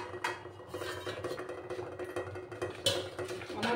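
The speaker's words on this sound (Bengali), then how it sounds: "এবার আমি ঢাকাটা সরিয়ে দেব।" A lid comes off a pot of steamed hilsa in mustard sauce with a brief metallic clatter and scrape, over a steady low kitchen background, up close and fairly quiet.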